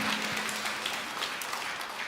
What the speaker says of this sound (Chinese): 来，将大家掌声归荣耀给上帝